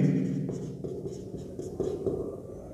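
Pen or chalk scratches out handwriting during a maths lesson, with short strokes and pauses, quiet and close in a calm room.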